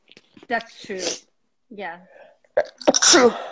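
A person sneezes indoors during a relaxed conversation in an artist's studio; one sharp sneeze is followed by a short pause and a second burst, with speech around it.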